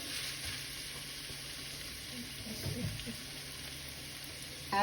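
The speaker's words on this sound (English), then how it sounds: "We're going to brown this up until it's nice and brown." Ground meat browning in a pan for Bolognese gives a soft, steady sizzle with faint stirring scrapes, quiet and low, ending in a brief louder knock.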